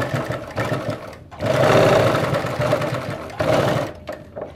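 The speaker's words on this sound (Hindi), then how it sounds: "यहाँ पे पहले सिलाई लगाएंगे" A sewing machine stitches pants fabric in close, loud whirring runs, one long sustained burst followed by shorter ones, with brief pauses and handling noises as the material is turned.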